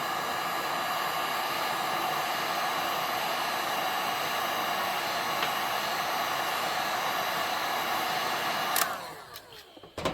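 A heat gun blows steadily, close and loud, warming the inner bearing race on a cold NWP crankshaft for a Farmertec 288 bottom end, then cuts off near the end to a few faint clicks.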